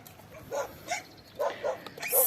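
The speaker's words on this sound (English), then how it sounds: "7 puppies" Small rescued puppies found in the trash on Crete whimper and yip nearby in a few short, high, broken cries.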